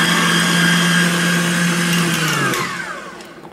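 An electric mixer whips lemon pie filling, a loud, steady high-pitched motor whir up close that drops in pitch and fades as it winds down at the end.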